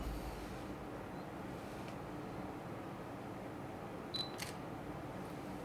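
Fujifilm X-T4 mirrorless camera shutter firing, a soft, brief double click near the end over a steady background hiss, close and fairly quiet.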